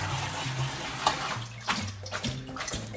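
Homegrown romaine lettuce being rinsed under a running tap, a steady broadband rush of water with splashing bursts as the leaves move through the stream, close and fairly loud with no talk.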